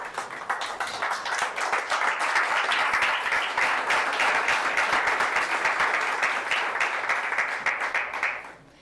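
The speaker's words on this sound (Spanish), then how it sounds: "Bríndale un aplauso al Rey" Church congregation applauding during a worship service, strong, rapid clapping that swells, holds steady for several seconds, then drops away at the end.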